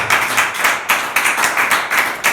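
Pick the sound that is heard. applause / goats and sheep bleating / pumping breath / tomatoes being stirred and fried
applause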